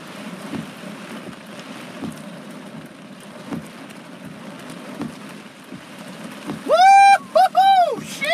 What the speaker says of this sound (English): We got hail.